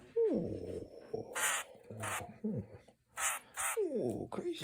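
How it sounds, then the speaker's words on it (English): A crow caws repeatedly in loud, close, harsh bursts, mixed with hissy scratchy noises and brief vocal exclamations between calls. "oh, crazy bird"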